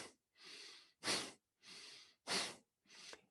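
Yoga breath of fire practice: rhythmic nasal breathing alternating softer inhales with sharp, forceful exhales, close and clear with short silences between.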